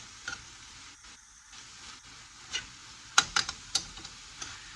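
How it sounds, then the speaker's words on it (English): Fresh vegetables for chicken pad thai get tossed in a hot pan, producing a soft, low sizzle with a few sharp clicks and scrapes from the tossing near the end. "add in my fresh vegetables. Just toss it around a little bit."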